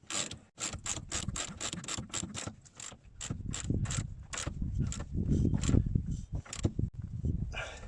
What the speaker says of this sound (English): we've got a spanner on the end of the long bolt. We just socket, just tighten it up.